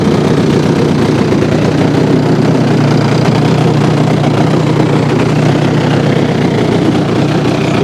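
A large radio-controlled model airplane engine idles on the runway, a loud, steady, close mechanical chugging with a low rumble that holds evenly throughout.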